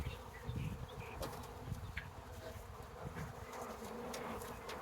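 Honeybees buzz continuously close by around a hive, a dense steady drone with a few louder passes, no voices.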